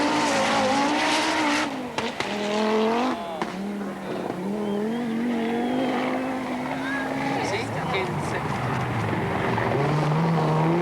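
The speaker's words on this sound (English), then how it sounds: "Blomqvist rushes into sight, desperately trying to haul in Salonen's Peugeot" Rally cars on a 1985 Acropolis Rally stage in Greece, including a Peugeot, roar past with rising and falling engine notes and gear changes, loud and close, under a commentator's voice.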